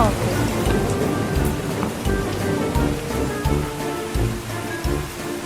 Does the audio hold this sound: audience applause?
no